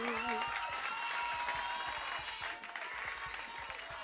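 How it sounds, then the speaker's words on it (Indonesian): A studio audience claps in a steady, dense burst of applause that fills the moment after a song ends, with a few faint voices mixed in. "Tepuk tangan."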